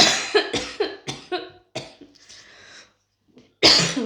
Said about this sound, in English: Oh, coughing fit.